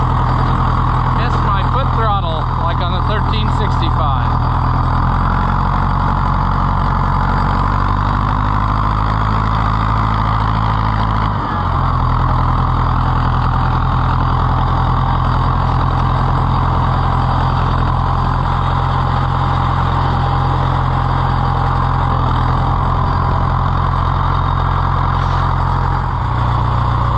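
An Oliver 500 tractor engine runs loud and steady with a deep idle hum, its pitch stepping down partway through and dipping briefly before settling again, while a person talks over it throughout.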